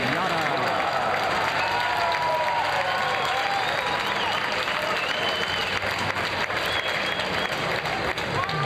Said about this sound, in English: Let's listen into the applause as she enters the winner's circle.